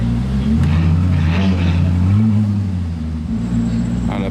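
A Koenigsegg Jesko supercar engine rumbles deep and loud at low speed while it makes a slow U-turn, the steady drone wavering slightly in pitch as it manoeuvres.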